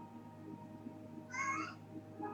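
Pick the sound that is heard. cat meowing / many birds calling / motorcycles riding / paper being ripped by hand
cat meowing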